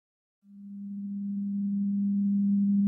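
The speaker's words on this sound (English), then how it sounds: "What you're hearing is a monaural sine wave at 200 Hz." A steady monaural 200 Hz sine tone starts abruptly after a short silence and holds alone, smooth and unbroken, growing slightly louder to the end.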